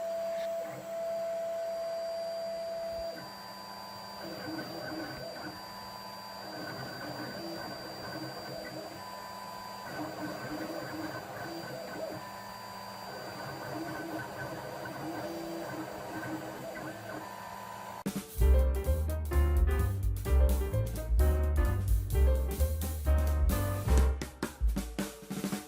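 A Genmitsu PROVerXL 6050 Plus CNC router with linear rails runs a milling job, its stepper motors whining and humming in shifting pitches, then breaking into loud, rapid, choppy cutting and movement bursts near the end.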